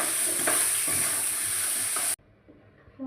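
Potatoes and tomato sauté and sizzle in a pan with steady frying hiss and stirring scrapes, loud and close. The sizzle cuts off abruptly near the end, leaving quiet pan sounds.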